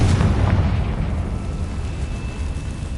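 A Confringo fire spell blasts in the Hogwarts Legacy video game, a loud, dense booming explosion with a heavy low rumble that fills the whole moment and slowly tails off, with no voices.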